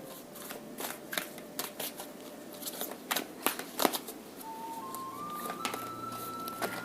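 Tarot cards shuffled and drawn from a deck in a quiet room, a run of crisp papery flicks and snaps that cluster in bursts, close and fairly soft, with a faint tonal hum in the background.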